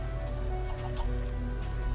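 Chicken clucking from a Minecraft game farm, a few short soft clucks over a steady droning background hum with no speech.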